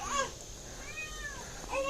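A cat meows while being fed, with a couple of short, mid-pitched meows close by, one near the middle and another at the end, over a faint steady background hiss.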